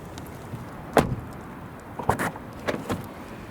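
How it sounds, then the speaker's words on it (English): A rear passenger door on a Toyota RAV pulled shut with a single solid thud near the one-second mark, followed by a few quieter mechanical clicks and knocks from the latch and handle, with no talking. "now I will close the door."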